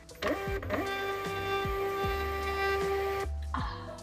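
MunByn 130B thermal label printer feeding and printing a label, a steady whirring motor with rhythmic stepping pulses and a clicking stop, close and alone.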